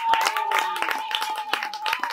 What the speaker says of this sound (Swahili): Makofi tena mengi kwa ajili yao.